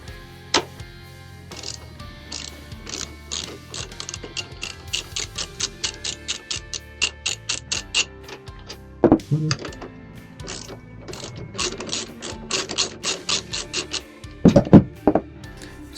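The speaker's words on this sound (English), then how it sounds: "next we've got to remove this bolt and this bolt. So I'm going to do that now quickly" A ratchet wrench removing 12 mm bolts from a Tenere 700 motorcycle while fitting an SW-Motech centre stand, close rapid clicking in repeated bursts with short pauses and a few louder metallic knocks.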